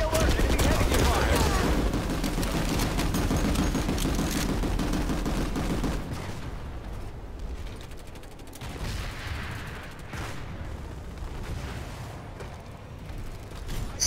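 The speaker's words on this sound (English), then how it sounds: "Enemy heavy fire!" Heavy gunfire fills a video game firefight, a dense, loud burst of rapid shots for about six seconds before easing into quieter, scattered shooting and mechanical clatter, with voices mixed in.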